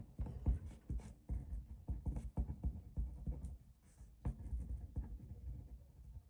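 Pen or pencil writing on paper close by, a run of quick scratchy strokes with short pauses and taps, fairly quiet and with no talking.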